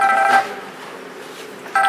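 A smartphone rings with an incoming call during a hackathon demo: a bright electronic ring tone in two short bursts separated by a pause, fairly loud and close, with no one speaking.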